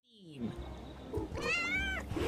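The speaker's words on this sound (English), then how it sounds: "Perpetual meow torture" A house cat meows in a long, insistent drawn-out cry close by, rising and wavering, while a person talks over it.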